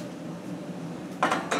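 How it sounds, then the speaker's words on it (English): A big metal spoon clinks against a baking pan of large turkey meatballs as sauce is dropped on each, a soft scrape followed by two sharp metallic taps near the end. "use my big spoon right here to drop a little bit on every meatball that I have in this baking pan"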